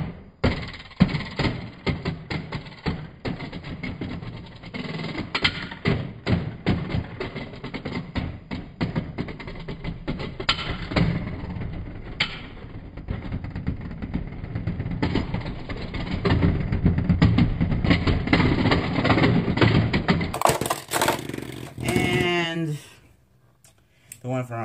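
Storm Capricorn and Storm Pegasus Beyblade tops clash and spin in a stadium, a dense run of rapid clicks and knocks with voices talking over much of it, then a brief scrape and a sudden drop near the end.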